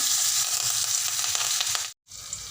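Mustard seeds, crushed chili thecha and curry leaves sizzle in hot oil for a tempering of dahi kadhi, a loud close crackling hiss that briefly drops out, then resumes.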